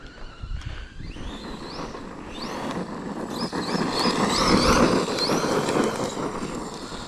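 A Team Associated Rival MT10 monster truck with its stock electric system runs at full throttle outdoors, its motor whine rising and falling in short bursts over steady wind and rolling tire noise.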